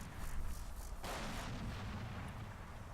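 Tank gunfire in the video game Combat Mission: Black Sea: one heavy, booming cannon shot with a long rumbling decay that spreads over a steady noisy background.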